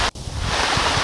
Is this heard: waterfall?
yes